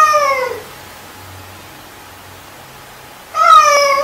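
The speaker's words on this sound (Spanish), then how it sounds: "El gato Michín." A cat meows twice as a sound effect, one drawn-out call at the start and another near the end, loud and close over a faint hiss.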